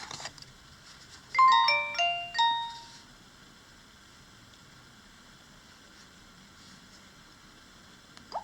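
A Nokia 225 4G phone from 2020 powers on with a short, bright startup jingle of a few quick ringing tones. It plays alone and then fades into a faint steady hiss.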